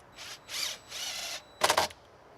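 A power drill bores holes for fence brackets through a 2x4 using a squaring jig, giving three moderate whirring bursts followed by one louder, sharper grinding burst.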